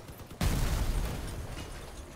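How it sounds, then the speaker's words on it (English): Big explosion in the vehicle combat game Crossout: a sudden loud boom that bursts in and then rumbles on with a dense, slowly fading roar, with no talk over it. "Even ended in a great bit of explosion."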